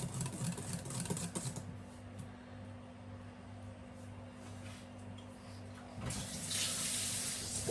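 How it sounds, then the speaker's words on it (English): A whisk is rinsed under a running kitchen tap, with a steady stream of water splashing close by that grows louder and brighter near the end. "Wash the whisk out straight away,"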